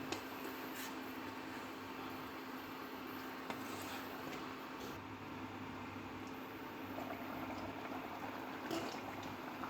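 Pot of chicken and potato curry simmering with a bowl of added water, a faint, steady bubbling and soft liquid crackle with occasional small pops, quiet and continuous with no talking.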